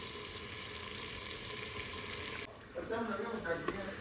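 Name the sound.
chicken liver curry being fried in pan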